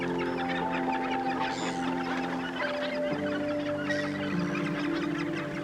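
A dense gannet breeding colony on a Scottish nesting headland keeps up a continuous, raucous chorus of harsh overlapping calls, loud and unbroken with no voices.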